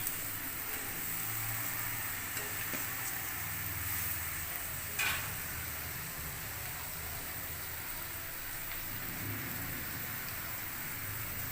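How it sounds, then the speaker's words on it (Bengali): Small pieces of potato and eggplant with salt and turmeric fry in oil left from frying fish. A faint, even sizzling hiss continues steadily, with a soft knock partway through and no voices. "আলু বেগুনের ভাজা"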